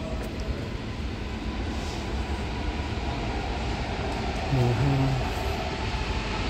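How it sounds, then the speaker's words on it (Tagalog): Paris metro train pulling into Mairie des Lilas station, a steady broadband rumble of wheels and motors with a brief higher tonal whine near the end as it slows. "Pagdating ng train."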